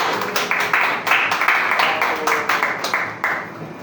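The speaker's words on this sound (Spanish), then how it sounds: "Den un fuerte aplauso al Señor en esta mañana." A church congregation gives a dense, steady burst of applause during a Spanish-language service, many hands clapping together at moderate loudness for the whole stretch with no talk over it.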